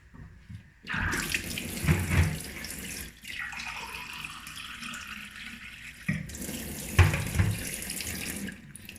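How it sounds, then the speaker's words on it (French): Tap water runs steadily into a cooking pot while spinach and okra stew with meat and fish is being prepared, the flow starting and stopping twice with clattering handling in between. "Là, j'ajoute un peu d'eau."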